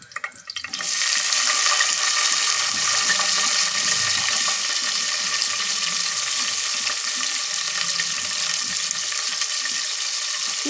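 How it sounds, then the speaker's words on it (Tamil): Steady, close sizzling of onion sautéing in hot oil, a continuous crackling hiss with faint stirring underneath and no voices. "இப்போ வெங்காயம் நல்லா பொன்னிறமாக வர வரைக்கும் நல்லா வதக்கிக்கலாம்."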